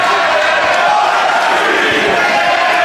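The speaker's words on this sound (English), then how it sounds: "So listen to the crowd, they're split." A packed crowd at a CZW wrestling match, the Cage of Death event, roars loudly and continuously, a dense wall of cheering and shouting split between two wrestlers.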